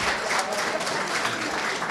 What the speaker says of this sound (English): let's give the choir a round of applause